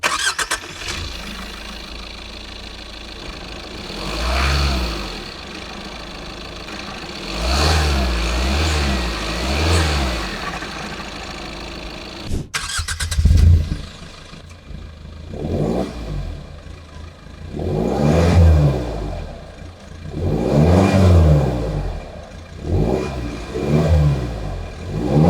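A Tata Sierra diesel SUV on a drive, its engine rising and falling through several loud accelerating surges over about twenty-five seconds, with a lower steady drone between revs.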